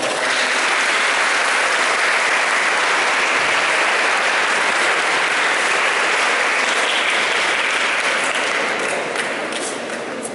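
Sustained, dense applause from an audience at a school farewell ceremony for third-year classes, loud and even throughout with many hands clapping at once.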